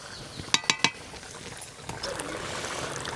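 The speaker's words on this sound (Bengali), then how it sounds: "এই যে দেখুন ভাতের মার গালছি" Starch water is poured off a pot of cooked rice on a home stove: a few sharp metallic clinks of the lid, then a soft, steady splash of liquid draining close by.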